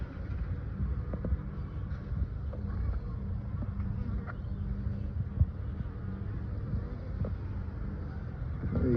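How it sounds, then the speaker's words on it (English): Honeybees hum steadily at the front of a hive during an inspection after a super was added, a dense continuous close buzz with small rises as individual bees pass near. "Put some of these bees at the front of the hive there"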